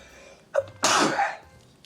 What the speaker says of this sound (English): Don't know why I'm sneezing.